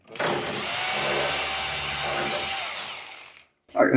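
A hammer drill in hammer mode whines loudly into a wall for about three seconds, then cuts out briefly before starting again.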